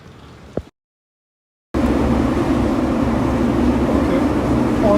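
Interior of a moving metro train on the way to the start of the Portuguese Camino: after a brief silent cut, a loud steady rumble of the car running along the rails fills the rest.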